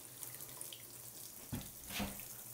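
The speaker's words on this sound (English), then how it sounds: "we'll just turn this clockwise so that we can turn on our water to our handheld slowly" Water runs from a Grohe push button shower faucet to a handheld shower, a steady close hiss of flow throughout with a couple of brief knocks partway through.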